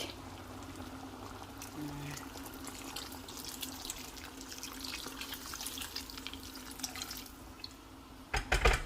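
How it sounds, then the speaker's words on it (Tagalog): Water is poured into a pot of sautéed mung bean stew with fish, giving a faint, steady trickle and splash that grows louder and more broken near the end. "So, lagyan natin ng tubig."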